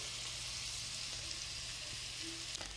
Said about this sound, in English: vegetable is being fried into the oil, and the fire is not too high